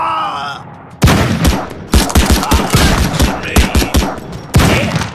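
AK-47 fire in the video game Madness Project Nexus 2, loud close rapid bursts of shots cracking in quick succession after a brief quiet opening, with a short break before a final burst.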